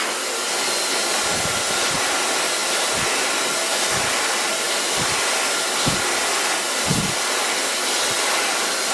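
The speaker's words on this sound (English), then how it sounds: "And then I start blow drying." A hair dryer set to 80 degrees Celsius roars with a loud, constant rushing hiss while blow drying hair, broken by occasional low thumps and bumps as it is moved around.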